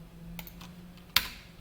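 A few scattered computer keyboard keystrokes while typing Java code, soft close clicks ending in one sharper, louder key press, over a faint steady hum.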